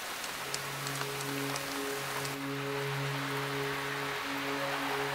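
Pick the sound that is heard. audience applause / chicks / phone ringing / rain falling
rain falling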